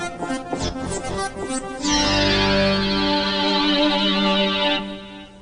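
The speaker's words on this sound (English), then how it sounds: "switch 2 increases the amount of echo in the chorus delay effect" Synthesizer notes from a Kurzweil K2600 keyboard ring out with a repeating echo that lingers and fades, a chorus-like delay trailing behind the sustained tones.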